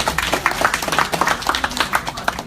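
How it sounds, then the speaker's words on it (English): An audience at a business seminar applauds a giveaway winner, with a short burst of fairly faint scattered clapping that stays steady for a couple of seconds. "Can we give him a round of applause?"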